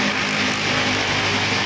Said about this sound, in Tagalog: medyo maingay yung mga sasakyan